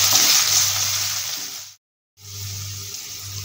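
Chopped onions sizzling steadily in a hot frying pan while being stirred, a loud continuous hiss close up that cuts out briefly mid-way before resuming.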